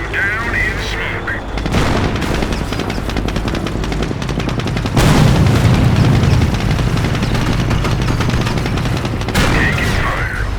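Gunfire and explosions in the real-time strategy game Company of Heroes: dense, continuous machine-gun bursts and rifle shots with a heavier booming blast about midway, loud and sustained throughout.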